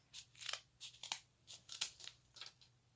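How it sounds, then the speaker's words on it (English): Scissors snip along the paper edges of a small homemade sketchbook, with quick, quiet, close cuts coming in a steady irregular rhythm. "Cut along the edges."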